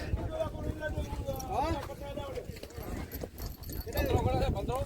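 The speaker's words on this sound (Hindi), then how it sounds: "देख सकते हो काफ़ी घोड़े आ गए और भी घोड़े आ रहे हैं" Horses' hooves clop irregularly on the ground amid a busy outdoor crowd at a horse race, with people talking throughout.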